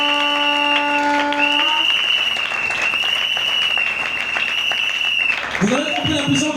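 A church congregation applauds in praise during a sermon, a dense patter of clapping under sustained musical tones and a voice, with a sharp rising tone near the end.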